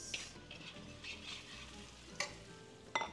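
Garlic and onion sauté in a pan with a quiet, steady sizzle, stirred with soft scraping and a couple of sharper clinks from the utensil against the pan.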